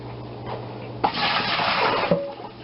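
Tap water gushes into a bowl for rinsing mushrooms, starting with a sudden loud burst and running steadily for about a second before cutting off, with faint kitchen background before and after.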